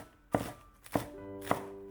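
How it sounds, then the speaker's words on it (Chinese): A knife chops fresh-picked scallions on a cutting board: three distinct, evenly spaced sharp thuds, close and fairly quiet, with no talking. "刚从地里摘的新鲜小葱，"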